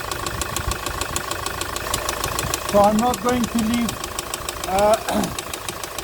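A Hyundai i800 with a D4CB diesel engine runs with a loud, steady, rapid knocking and banging, close by, while someone talks over the noise in the middle of the clip.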